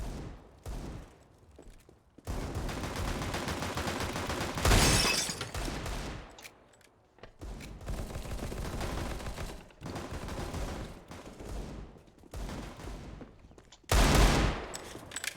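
Rapid bursts of automatic gunfire in a tactical shooter game as a window is shot out, loud and close, in several long volleys separated by short pauses, with sharp louder cracks near the middle and end.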